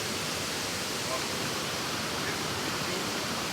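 A waterfall on the Thiba River in Kirinyaga roars as a steady, dense wash of falling water, loud and unbroken throughout with no other distinct sounds.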